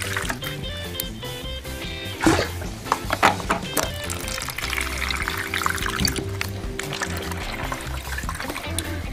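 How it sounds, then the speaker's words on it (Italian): Residual water pours and trickles steadily out of a sewage grinder pump being drained for repair, with a low mechanical hum and tonal background sound running underneath throughout. "da esso faremo uscire l'acqua residua che si trova all'interno della macchina"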